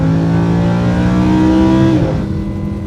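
A 2016 Lamborghini Huracan LP 610-4 revs high, its engine wailing loud and close with a rising harmonic whine that drops sharply near the end as the revs fall.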